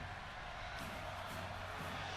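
Crowd noise in the WWE 2K17 wrestling video game as wrestlers enter a WCW arena, a steady, continuous roar of cheering spectators with no breaks or distinct calls standing out.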